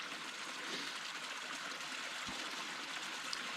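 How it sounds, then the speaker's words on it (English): A stream flows steadily at a low, even level, a soft continuous trickle and rush of water heard from a short distance, with no voices over it. "I love listening to the water."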